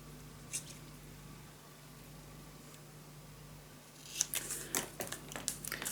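Scissors snip paper for a wildflower mini album, a quick run of several close, crisp cuts near the end after a quiet stretch with one early snip.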